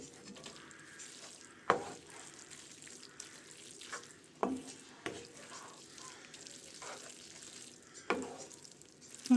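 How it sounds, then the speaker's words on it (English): Spaghetti being tossed and mixed with a tuna tomato sauce in a pan, giving a soft wet stirring and faint sizzle, with several sharp clanks of a utensil against the pan spaced a few seconds apart. "They mix the pasta with the sauce"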